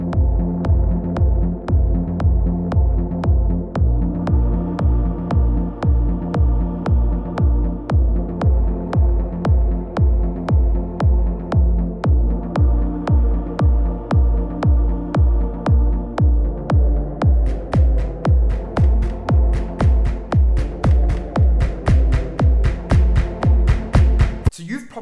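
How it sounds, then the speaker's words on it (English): A synth track pulses with a steady, solid beat under sustained droning tones, the hits sharpening and growing brighter toward the end. "a synthesizer slowly warming up, and there's a build up with a solid beat"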